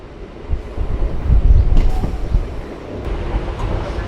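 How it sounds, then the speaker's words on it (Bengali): An Azimganj MEMU train rolls into platform 4 at Berhampore Court station with a loud, close rumble, rattling wheels and a few metallic squeals, the noise swelling mid-pass and then settling into a steadier roll. "4 নম্বর প্ল্যাটফর্মে ঢুকছে আজিমগঞ্জ মেমু"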